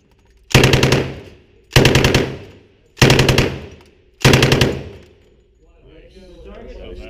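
Four short bursts of automatic gunfire at an indoor shooting range in Miami ring out loud and close, evenly spaced about a second apart. Faint talk follows the last burst.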